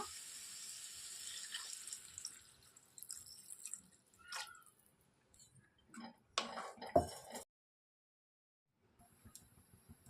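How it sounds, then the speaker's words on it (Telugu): Water trickles and splashes in short uneven bursts into a pan of bottle gourd curry, close by, with small drips and clicks, then a sudden stretch of silence. "ఇప్పుడు వీటిలోనికి తగినంత వాటర్ని పోసేసుకుంటున్నాను"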